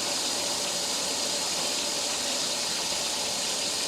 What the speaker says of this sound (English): Now we're just waiting for the water to fill up